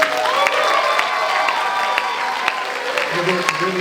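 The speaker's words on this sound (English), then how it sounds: "Can we get one more round of applause for our chords?" Crowd applause and cheering at a Filipinx graduation ceremony at UC Davis, dense clapping with sharp accents throughout and shouts mixed in, voices near the end.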